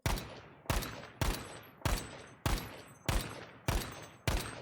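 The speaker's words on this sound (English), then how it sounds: "So picture if you're shooting at like 20 meters with an AR" An assault rifle fires eight evenly spaced single shots in Battlefield V, each a sharp loud crack followed by a short decaying echo, with no talking.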